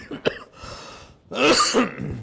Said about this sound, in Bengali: আপনার তো প্রচুর কাশি হচ্ছে